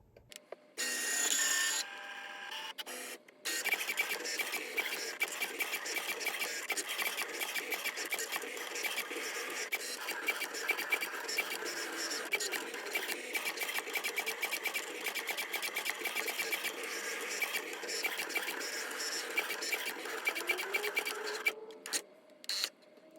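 An electronic cutting machine cuts a bicycle appliqué, a steady whirring motor with rapid ticking and scraping of the blade carriage running for about twenty seconds, preceded by a brief louder burst and ending with a few clicks.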